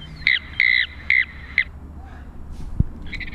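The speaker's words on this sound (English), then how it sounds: "That would be the mountain plover." A mountain plover call played back through a small sound book speaker: four harsh, squawky calls in quick succession, fairly close, followed by faint background noise and a soft thump.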